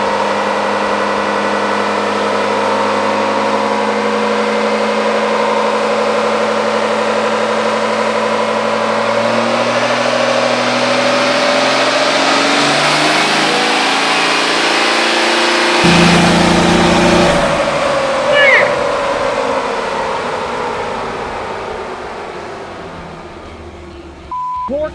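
5.9-liter Cummins diesel engine with a 106mm compound turbo kit on a dyno, heard as a loud sustained pull that climbs steadily in pitch, then eases off and winds down toward the end, with a brief voice near the close.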